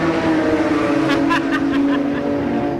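A historic racing car engine rumbles in a paddock at the London Historic Trophy, a loud, steady, close drone with a brief rising rasp of revs in the middle, and no talk over it.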